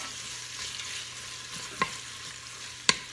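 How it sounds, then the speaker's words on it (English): Mexican-style beef with tomato paste being stirred in an Instant Pot: a soft, continuous sizzle with a couple of sharp clinks of the spoon against the metal pot, close and moderately quiet. "Stir that up in there"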